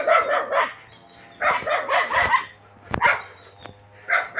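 A fierce dog at a remote mountain house barks repeatedly in uneven bursts, fairly close, with a couple of sharp knocks and a low steady hum underneath.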